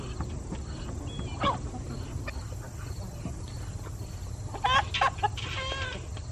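Backyard chickens cluck softly over a low steady hum while a male Muscovy duck harasses the hens, with a short burst of louder calls near the end.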